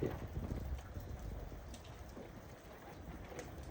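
Steady rain falls outdoors, a dense continuous patter with a soft broadband hiss that holds an even level throughout, with no voices.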